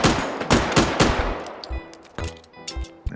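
Rapid Tokarev pistol shots in the VR shooter H3VR, a burst of about five loud, evenly spaced cracks followed by a few more spaced shots with ringing mechanical clicks between them.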